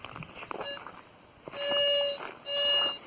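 A handheld pinpointer metal detector beeps over buried metal in red soil, with a couple of short chirps followed by two longer, steady electronic tones, fairly faint against a quiet background.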